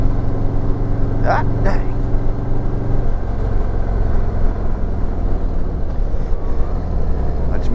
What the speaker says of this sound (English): The little blips of the throttle, it just feels so good.